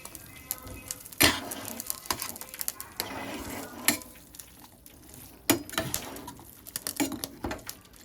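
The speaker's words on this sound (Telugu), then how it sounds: "ఇప్పుడు ఈ రోస్ట్ చేసుకున్న జీడిపప్పుల్ని ఈ పొంగల్లో కలుపుకుందాం" Roasted cashews being stirred into sweet pongal, a spoon clinking and scraping against the pot in irregular sharp knocks between soft, wet stirring, close and fairly loud, without speech.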